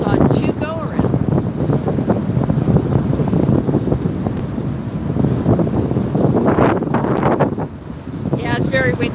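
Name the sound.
strong wind on microphone at LAX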